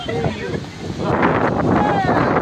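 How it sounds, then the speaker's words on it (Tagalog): Strong wind roars and buffets the microphone in a steady, loud rush, with a voice partly buried beneath it. "Malakas po yung hangin, malakas."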